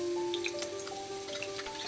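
Mustard seeds splutter in hot oil in a kadhai, giving faint, scattered crackles over a steady sizzle, with a sustained tonal hum running underneath.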